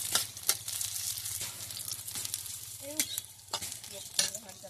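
Green chillies frying in a pan for vegetable carrot semai, with a steady sizzle and repeated utensil scrapes and stirring knocks close by, no voices.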